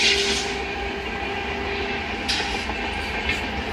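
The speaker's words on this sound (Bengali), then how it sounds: "ওই দেখো মেল যাচ্ছে" A mail express train runs past a level crossing with a steady loud rumble and rhythmic wheel clatter, brief sharp clacks and a faint squeal over the continuous roar.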